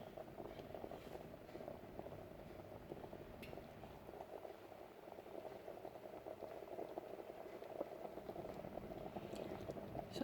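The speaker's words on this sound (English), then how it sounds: "So I'm just going to let that simmer away for a minute." Chicken simmers in a Mr. D thermal cooker pot with a continuous low bubbling burble, steady and even throughout, with faint occasional clinks and no voices.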